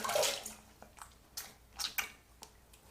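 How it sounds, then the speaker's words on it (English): Water splashing and dripping while shave soap is rinsed off a face, a string of soft wet splashes and trickles at uneven intervals, close by but faint, with no talking. "soap rinses off very cleanly"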